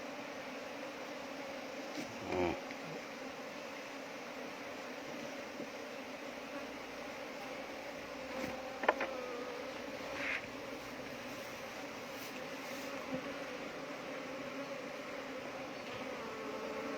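A bee colony drones in a steady, continuous buzz while the swarm is tied up and moved to a new hive, with a few brief knocks and rustles breaking through the hum.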